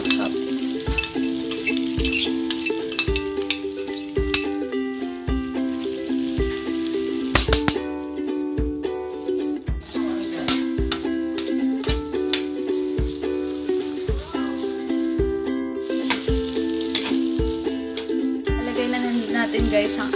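Chopped ham frying in a pan for a creamy carbonara gives a steady, close sizzle that runs the whole time beneath prominent background music with a regular beat.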